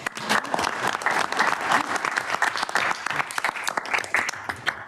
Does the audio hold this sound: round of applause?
yes